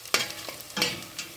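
Onion fries in a pot with a soft, close sizzle, broken by a few quick scraping stirs at irregular intervals over a short stretch.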